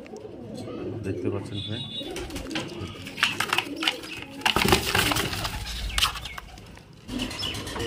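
A male highflyer pigeon being handled coos softly and beats its wings in several brief flurries of flapping and rustling close by, while someone talks over it.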